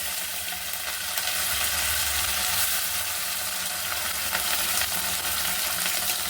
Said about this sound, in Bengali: ভেজে নেব মাছগুলো